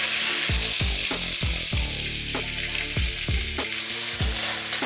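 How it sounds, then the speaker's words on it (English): Six sliced onions fry with whole spices in hot oil, a loud, steady sizzle broken by repeated clanks of a spoon stirring the pan, with no talking. "Now you need to fry the onions till they are golden in color."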